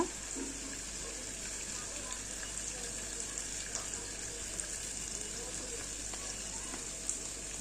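Cauliflower and potato pieces frying in a pan, a constant close hiss of hot oil running throughout with a few faint clicks and light handling noises.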